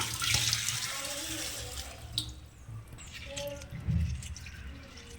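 Soaked rice and lentils are washed by hand in water, with splashing, swishing and dripping sounds and faucet-like pouring, close and moderately loud, with brief clinks in between.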